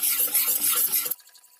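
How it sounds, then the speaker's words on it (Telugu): Halwa being stirred in a pan, a close, dense scraping and sizzling stir that stops abruptly near the end, leaving near silence. "ఇలా కలుపుతూ ఉండాలండి."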